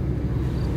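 A car driving near the Swiss border, a steady low road rumble and engine hum heard close and continuous for under a second, with no voices.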